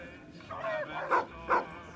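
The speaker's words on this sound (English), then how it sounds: "Hey, doggy." Dog barking in Fallout: New Vegas, a few faint short barks and yips set back in a quiet game scene.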